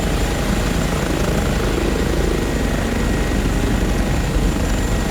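Rotors of an Airbus H145 helicopter in flight simulation give a steady, loud, dense whir and thrum that holds constant throughout, with no voices.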